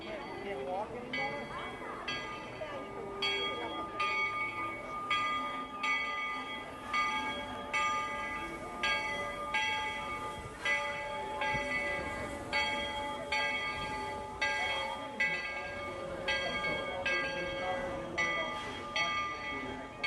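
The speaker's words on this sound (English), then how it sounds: "Oh, that's the Lily Bell train." Repeated bell-like clangs ring in a steady rhythm over the low rumble of the Walt Disney World Railroad train at Magic Kingdom, with some talking in the background.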